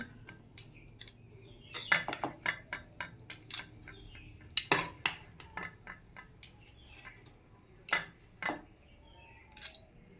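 Steel plates, bowls and cutlery clink and scrape in a string of sharp, close knocks while a home-cooked offering of fried aubergine, fritters, curd, sweets, a water glass and vegetable dal is set out, with no one talking.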